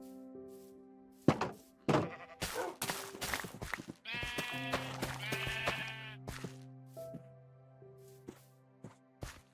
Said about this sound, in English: there's my sheep farm